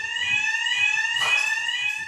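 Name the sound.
fire alarm sounding in training mock house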